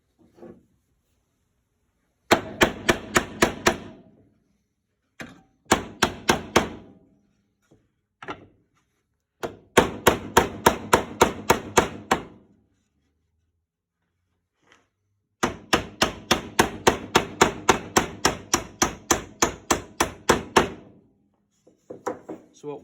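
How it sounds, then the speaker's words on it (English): A hammer drives nails into a wooden wall stud with a knot, several bursts of rapid, loud, evenly spaced blows separated by pauses, close by with no talking. "you simply can't nail or drive a nail through a knot"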